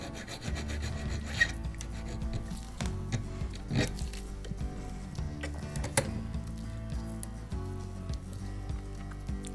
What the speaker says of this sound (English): first I file the top flat, then file each side up to about 30 odd degrees angle to put a small bevel on it